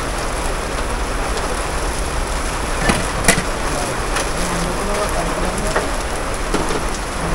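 Steady, dense rain falls close by, an even hiss of drops on surfaces, with a few faint knocks and clinks standing out in the middle.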